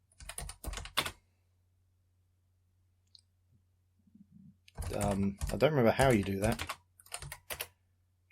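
Short bursts of clicky typing on a computer keyboard while entering commands in a Magnetic Scrolls text adventure, close and fairly quiet, with someone talking over and between the keystrokes.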